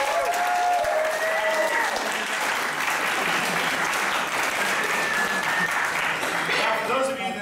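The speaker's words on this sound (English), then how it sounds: "I'd like to give another round of applause for our jammers." Sustained audience applause at a holiday improv comedy show, a steady dense wash of clapping with some cheering filling the whole stretch.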